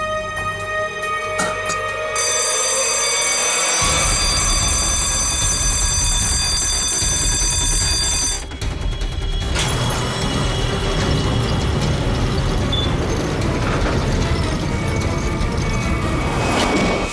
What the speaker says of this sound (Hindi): सर अलार्म की आवाज आई और ये दरवाजा अपने आप बंद हो गया।